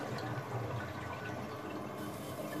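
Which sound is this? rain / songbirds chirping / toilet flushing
toilet flushing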